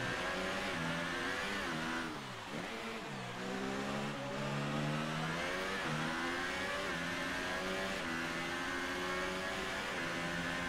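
A Ferrari Formula 1 car engine screams in a racing game set in Mexico, a high continuous whine that dips on a downshift and climbs back up through the gears, loud and sustained.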